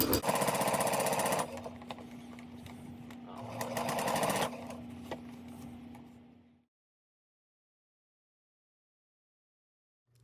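Sewing machine stitching a heart-shaped mug rug, running in two loud bursts with a shorter hum between, close up, then stopping and leaving silence.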